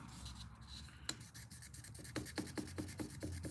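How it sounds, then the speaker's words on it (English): Wet sanding a 1981 Case 6265 folding hunter knife with oil: close, raspy strokes of sandpaper across steel, coming in a steady rhythm of quick back-and-forth passes that grow more regular toward the end. "like wet sanding a car, but you're doing it with oil"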